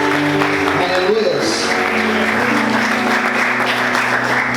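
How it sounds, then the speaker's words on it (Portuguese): An audience applauds in a dense, steady wash of clapping, with a voice calling out briefly over it. "Você pode aplaudir Jesus com bastante alegria?"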